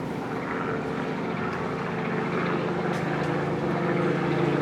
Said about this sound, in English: Helicopters fly over like every 10 minutes here as well.